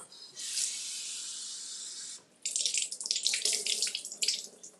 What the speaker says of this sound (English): I'm gonna wash these off,